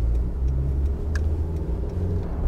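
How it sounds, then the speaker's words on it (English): A Suzuki Vitara's engine pulls away with a steady low rumble from inside the car, joined by faint interior ticks and rattles. "Engine sounds quite sweet."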